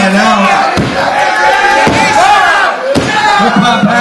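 A wrestling crowd at the Ritz roars and chants as Hip Hop Harry tries to fire them up, a dense, loud wall of voices with a few thuds cutting through.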